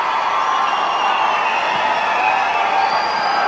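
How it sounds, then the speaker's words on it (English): Tennis crowd at the Chennai Open cheers as Rafael Nadal walks out, a broad, steady roar from a large stadium audience heard at a distance, continuous and even without distinct claps. "There's already a cheer that's going up from the crowd in Chennai."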